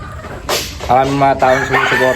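A rooster crows close by in drawn-out, repeated calls, with chickens clucking around it.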